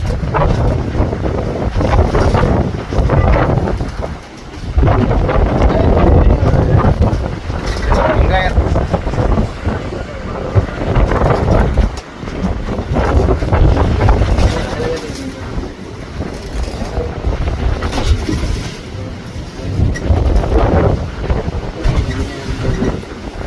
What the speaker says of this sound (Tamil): இந்த மாதிரி புயல் காற்று அடிக்கும் போது